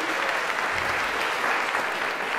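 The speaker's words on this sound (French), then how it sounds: "On peut applaudir ça." An audience at the 2024 regional final of the Ma Thèse en 180 secondes contest applauds in a dense, steady burst of clapping that fills the whole moment.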